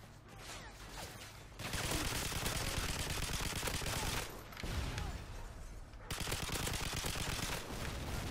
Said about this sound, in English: I actually kind of like the light machine guns in this game